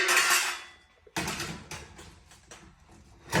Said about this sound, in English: Cut it halfway between the bottom of the track and the top of the track.